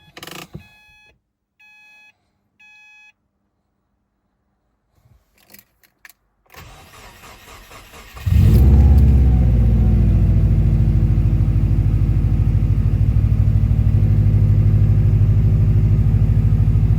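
A Subaru WRX with a swapped EJ20X engine: a few soft beeps and a key rattle come first, then the engine cranks and catches at about eight seconds into a loud, steady, deep idle close by.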